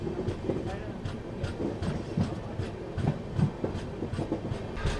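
Inside a general class coach of a moving train on the Kanyakumari to Bangalore route, wheels clack steadily in rhythmic beats over a constant rumble, with a voice faintly present in the background.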